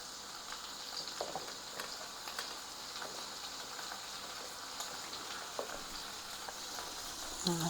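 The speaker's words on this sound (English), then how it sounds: "We're going to sauté our onions in with our steak until they're kind of tender." Onions sautéing with steak in a pan, a continuous soft sizzle and crackle with occasional small pops, steady and fairly quiet throughout.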